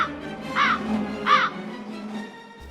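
A raven gives two harsh, rasping croaks, spaced under a second apart and heard up close over a faint low hum.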